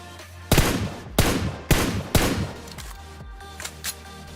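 Tap fire from a long-range red dot gun in a mobile battle royale game: four sharp, loud single shots spaced about half a second apart, followed by a couple of fainter pops, with no talk.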